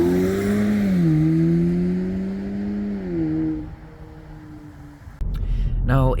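An Audi S3 quattro launches under launch control in heavy rain: a loud, close engine holds a steady rev, then dips and shifts, and ends in a sudden burst of noise.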